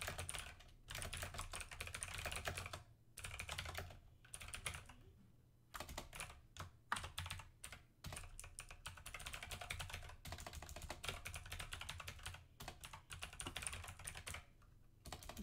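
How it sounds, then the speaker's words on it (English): Fast, continuous typing on a computer keyboard during a Warframe gaming session, dense bursts of key clicks with a few short pauses, close and fairly loud, with no talking. "I'm having a very hard time typing today."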